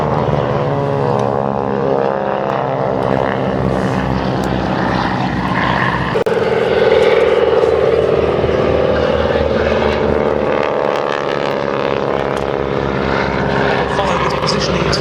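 A propeller-driven primary trainer biplane of the interwar US Army Air Force type roars loudly overhead at an airshow, engine droning with shifting pitch as it turns, while an announcer's voice carries over it.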